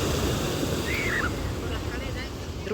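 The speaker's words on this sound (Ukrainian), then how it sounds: "І трохи вам ще покажу вечірнього океану" Evening ocean surf on the shore of Tenerife, a steady close wash of breaking waves with gusty wind buffeting the microphone throughout.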